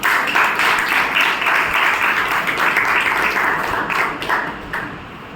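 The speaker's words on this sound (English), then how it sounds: "So let us have a big round of applause." Members at a club meeting give a big round of applause, a dense, even roar of clapping that holds strong for about four seconds before tapering off.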